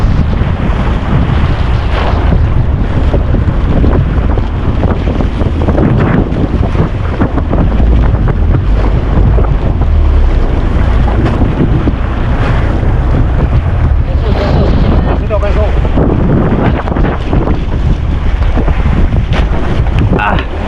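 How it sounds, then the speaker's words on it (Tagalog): Strong wind buffets the microphone aboard a boat on the south Philippine sea as big waves crash and wash around the hull, a loud continuous roar with surging gusts and splashes, and no clear talk. "Malalaki ang alon natin ngayon."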